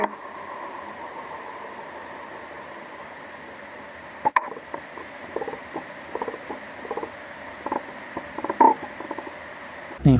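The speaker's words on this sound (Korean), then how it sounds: "한번 이 휠 도는 소리 한번 들려드릴게요." The scroll wheel of a Logitech MX Master 3 mouse is flicked and left to spin freely. A close, faint whirring follows, broken by small clicks and ticks, with no voices.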